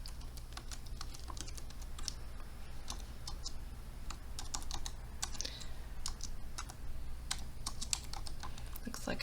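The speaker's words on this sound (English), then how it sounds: "we can start typing" Quick typing on a Mac computer keyboard produces a steady patter of light, crisp key clicks with uneven rhythm. The clicks sound close and quiet over faint background hum.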